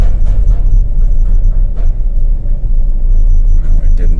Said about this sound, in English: I'm just driving slowly and I'm going to gradually brake